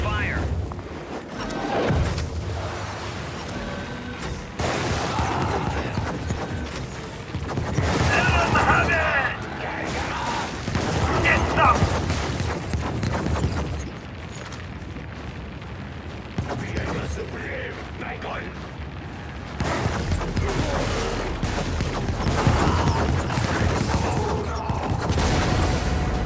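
Incoming artillery fire and explosions in the video game Helldivers, heavy booms and rumbling impacts recurring throughout, mixed with mechanical clatter and voices talking over the action.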